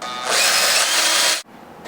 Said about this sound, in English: we'll drill a little hole through here